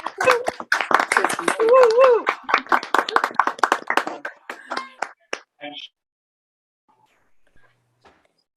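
Scattered claps from an online audience at a book awards presentation evening, a few hands at once under chatty voices for about four seconds, thinning to isolated claps and then quiet.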